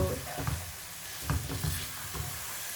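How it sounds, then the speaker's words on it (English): Kebabs being stirred into a sizzling pan; a continuous frying hiss runs under repeated scraping, thumping strokes of the spoon, fairly close and moderate in volume. "I'm gonna add the kebabs in there. Mix them in."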